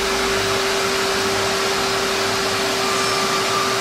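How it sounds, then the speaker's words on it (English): The spindle of a Plek machine runs steadily while carving a guitar fingerboard, a constant high whirring drone with a fixed tonal whine and airy hiss, close and unbroken, with no voices. "And now the spindle starts up and starts carving the fingerboard."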